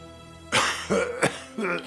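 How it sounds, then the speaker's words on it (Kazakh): Someone in an animated Kazakh cartoon coughs several times in quick, harsh bursts close up, the coughs landing in a short uneven rhythm. "кім жөтелді?"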